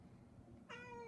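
A pet cat named Glunkus gives a single clear, drawn-out meow that rises in from a quiet room hum, close by and alone with no talking over it.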